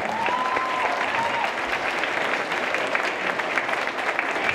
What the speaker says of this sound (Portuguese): volte ao palco com uma salva de palmas